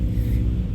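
Motorcycle passing close by on a road, a loud low engine rumble that holds steady through a brief moment.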